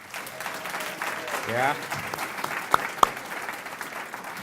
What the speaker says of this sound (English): can we give a round of applause for the developers, reviewers, presenters?